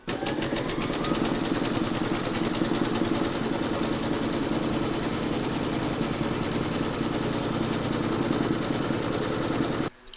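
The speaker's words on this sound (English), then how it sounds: "Pop your hoop into your machine and stitch round number" An embroidery sewing machine stitches through batting held in a hoop, a loud, continuous rapid mechanical chatter with a steady pulsing rhythm that runs unbroken before cutting off at the very end.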